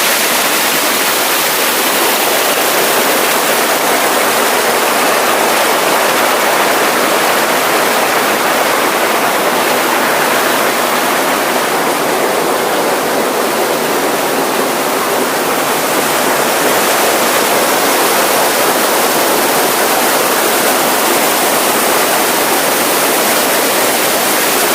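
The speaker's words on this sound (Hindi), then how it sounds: "काफ़ी नीचे पानी बह रहा है" Water rushes steadily over rocks in a forest stream in a deep ravine at Netarhat, a dense, continuous roar that holds at the same level throughout, with no voices.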